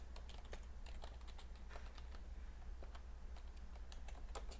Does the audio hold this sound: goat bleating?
no